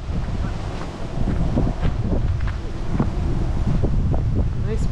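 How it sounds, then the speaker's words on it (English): Strong wind buffets the microphone in rumbling gusts at Malaga Lake, with faint water lapping underneath. "Very windy."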